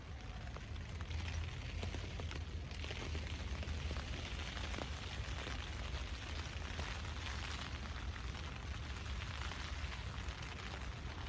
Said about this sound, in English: Light rain on the tent tarp.